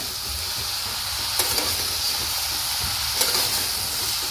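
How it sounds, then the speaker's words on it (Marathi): Vegetables for Mumbai-style pav bhaji being stirred in a pan, with a steady sizzling hiss of frying underneath and a couple of soft scraping strokes of the spoon, close and continuous with no voices. "आपण ह्याला हलवून घेऊया"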